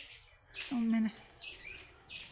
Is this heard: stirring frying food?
no